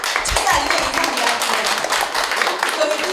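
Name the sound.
audience applause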